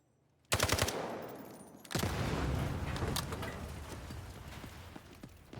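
Gunfire from a weak gun in the video game Delta Force: a quick burst of rapid shots, then a sudden louder stretch of sustained automatic fire that slowly tapers, with no talk over it.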